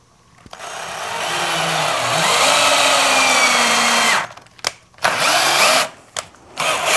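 A power drill drives a 2.5 inch deck screw into a wooden outdoor bench, a loud close whine that rises as the screw seats, then stops and gives a few short bursts.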